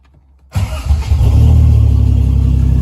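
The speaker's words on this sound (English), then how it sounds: "I'm going to start the car, maybe." A Triumph TR6 with no muffler starts after a short silence, catching with a burst and then running at a loud, raw, steady idle nearby.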